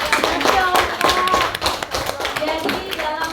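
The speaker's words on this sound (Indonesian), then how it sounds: "Coba beri tepuk tangan untuk" Classroom applause at an Indonesian religious lesson: a short burst of hand clapping mixed with overlapping voices talking over it.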